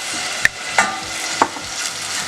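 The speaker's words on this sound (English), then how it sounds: "You can see it's not brown, so you see it sizzling." Steady sizzling of garlic frying in a pan, with a few sharp clinks of a utensil stirring against it.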